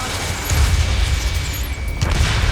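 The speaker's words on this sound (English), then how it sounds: "Gunfire and the roar of jets echoing through the streets." Gunfire and jet roar in a city under martial law in the Ace Combat 7 video game, a heavy continuous low rumble with scattered booms and distant bursts, no voices.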